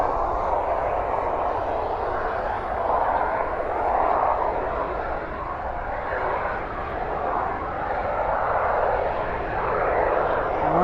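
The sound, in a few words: aircraft engines at DFW airport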